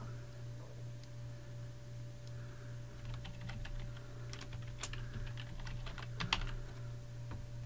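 Someone types on a computer keyboard at a quiet desk, with scattered key clicks that come in short bursts over a low steady hum.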